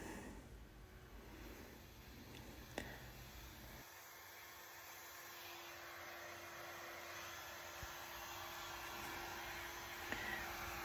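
Steady broadband whoosh of a hair dryer blowing close by, continuous throughout with a slight shift in tone partway through.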